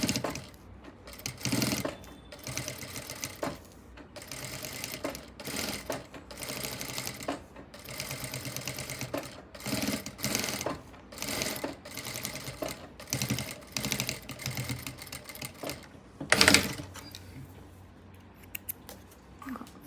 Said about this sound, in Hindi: तो हम यहाँ तक पाइपिंग के बीच में थोड़ी सी स्टिच लगा देंगे ताकि वो उठ ना जाए